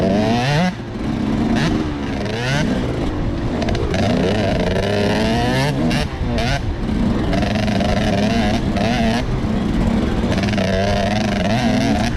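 A two-stroke dirt bike races through woodland, its engine droning loud and steady throughout with repeated rising and falling revs as it shifts and holds lower RPM at speed.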